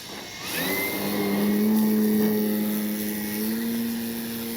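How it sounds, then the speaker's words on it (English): A Hangar 9 Valiant RC airplane with a 20cc gas engine revs up for takeoff into light wind, a droning buzz that rises in pitch and holds steady, nearby and continuous. "Taking off into the wind."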